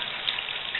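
A bathroom tap runs steadily during a bath, a continuous close hiss of flowing water with no pauses.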